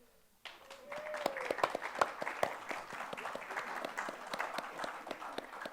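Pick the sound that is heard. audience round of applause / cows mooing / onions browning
audience round of applause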